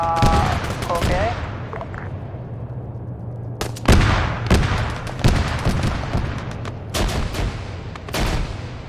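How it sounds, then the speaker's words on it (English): Grenade machine gun rounds firing in a military shooter game: loud bursts of gunfire and booming impacts come in irregular clusters, with a voice speaking over the opening moments. "They're putting GMG rounds up here."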